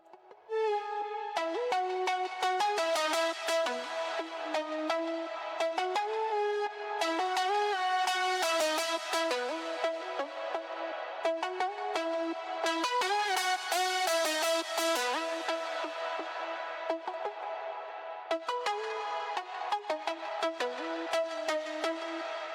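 A bright synth pluck passed through an envelope follower filter plays a continuous melodic sequence of short, tonal notes, each with a quick filtered sweep, steady in volume and with no voice.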